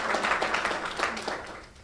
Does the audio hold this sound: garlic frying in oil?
no